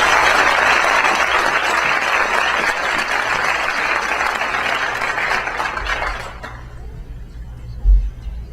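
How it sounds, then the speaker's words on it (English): Loud, steady applause from an audience at a school board of education meeting, honoring student award winners, sustained for about six seconds before cutting off into quiet room tone with a brief thump. "Let's give them a round of applause, please."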